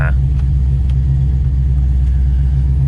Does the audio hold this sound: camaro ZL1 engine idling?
yes